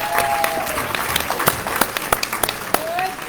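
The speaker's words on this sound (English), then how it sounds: "let's give Senator Kiggins a round of applause" Audience applause for a state senator at a Republican women's club gubernatorial forum, steady clapping from a room of people with a few sharper claps standing out, some voices mixed in.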